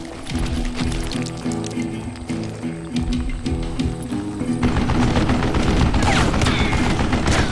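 An old man fires a mounted gun in the video game Call of Juarez Gunslinger, a loud rapid stream of shots rattling steadily and growing denser and heavier toward the end.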